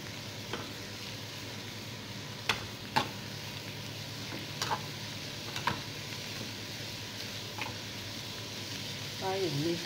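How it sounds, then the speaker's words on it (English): Garlic fries in a pan for spring roll filling, a steady soft sizzle punctuated by several spoon taps and scrapes as it is stirred, close by, with a brief voice at the very end. "Then you add the garlic. And you mix them together."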